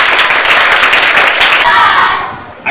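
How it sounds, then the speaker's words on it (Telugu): Loud, dense applause from a crowd at a public library visit by a state library council chairman, steady for about two seconds before fading out. "గట్టిగా చప్పట్లు కొట్టండి."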